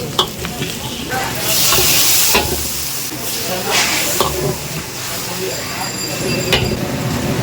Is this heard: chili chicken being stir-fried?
yes